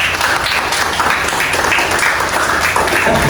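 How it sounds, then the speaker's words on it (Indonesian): Loud, dense applause from a school or training audience, many people clapping continuously and evenly for a few seconds, close and with no speech over it. "Tepuk tangan untuk kita semua."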